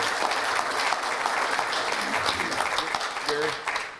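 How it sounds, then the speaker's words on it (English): Audience at a club meeting applauds a guest economist, a steady wash of many hands clapping filling the room at close range, with a few voices briefly audible beneath the applause. "Round of applause for Jerry."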